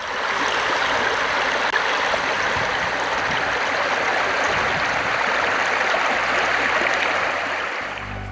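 Water rushes steadily in a continuous broadband wash, the Iris River in Tasmania heard close and constant.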